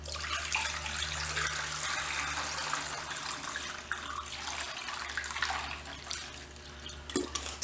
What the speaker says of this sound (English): And fill the rest with water.